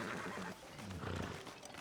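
A horse in Red Dead Redemption 2 gives a short, faint whinny that rises and falls over a couple of seconds, heard alone.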